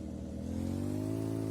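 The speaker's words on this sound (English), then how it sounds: "So we have a rotary engine in our Fury." A rotary engine in the Fury car from The Long Drive revs steadily, its rising harmonic drone holding loud and close throughout without any talk.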